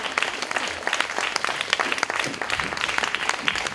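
Dense, steady applause from an audience greeting a team called onto the stage, many hands clapping together at an even, sustained loudness with a lively crowd feel and no talk.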